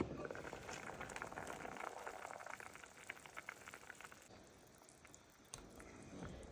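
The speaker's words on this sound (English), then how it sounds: "We're gonna turn on the stove, cover it, and let the peas cook." Peas cook in a covered pot on a stove, giving a faint, steady bubbling and hissing simmer that runs continuously at low volume.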